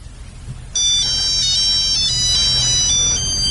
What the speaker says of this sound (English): It's a Scottish ringtone.